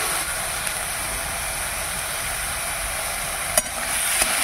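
Turmeric and salt sizzle steadily in a hot pan while being stirred, a continuous close frying hiss with a couple of brief scrape clicks near the end.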